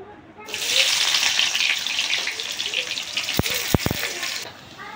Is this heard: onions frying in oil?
yes